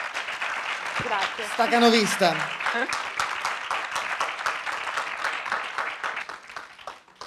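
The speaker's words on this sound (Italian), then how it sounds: "ma insomma intanto facciamo un applauso." Audience applause at an Italian talk on psychologists and tax law, a dense patter of clapping running throughout with a voice speaking over it early on.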